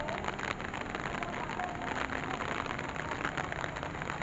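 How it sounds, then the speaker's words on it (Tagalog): Rain falls steadily, a continuous hiss of drops pattering on a surface, with no voices. "Ulan na, nag-ulan."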